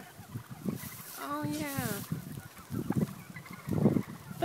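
A turkey lets out one rapid, warbling gobble, with a person speaking briefly nearby before and after.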